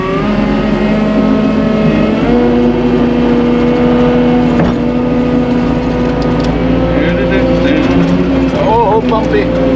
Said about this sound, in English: Here, skid steer, here we go.